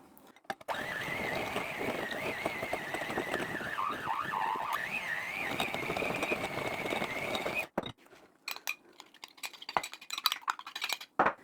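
Electric mixer whirring as lemon wafer biscuit ingredients are beaten into a creamy batter, a steady motor whine with wavering pitch for several seconds, then stopping, followed by scattered clinks and scrapes of bowl and utensils.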